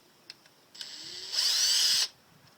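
A power screwdriver backs screws out of a Yamaha 4x4 servo assembly, giving one short whirring burst of a little under a second after a few faint clicks, close and moderately loud.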